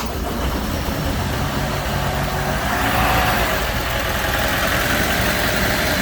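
A Dodge Omni GLHS engine runs on a dyno with an exhaust hose attached, a steady, dense idle that holds even and loud throughout, with no talking.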